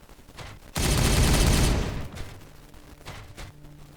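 Gunfire from the Warhammer 40K: Regicide game, with an Ork unit involved, erupts as a loud, dense burst lasting over a second and tails off into fainter crackles.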